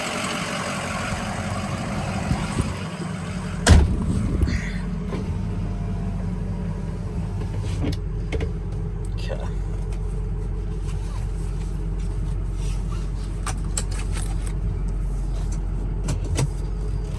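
A 2005 Ford F250 Lariat 4x4 with a Powerstroke diesel engine drives along, its low steady engine drone and road rumble continuous and close, with one brief knock early on and little talk.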